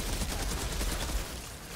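A quick burst of rapid gunfire in the video game Outriders, with heavy low-end thumps, loud and close, lasting under two seconds.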